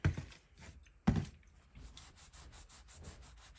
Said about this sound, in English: So just gently rub this over.